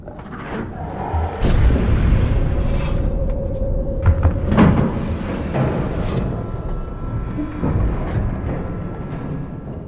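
Hissing and heavy thudding from something moving in the vents in Alien: Isolation, a deep boom followed by a sustained rumbling hiss with scattered knocks and bangs, loud and close.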